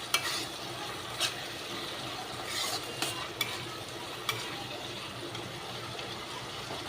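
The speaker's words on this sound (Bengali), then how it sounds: "এবার আমি বেগুনগুলোকে ছেড়ে দিলাম।" Eggplant pieces fry in oil in a pan, giving a soft, steady sizzle close by, with a few scraping stirs of a utensil against the pan.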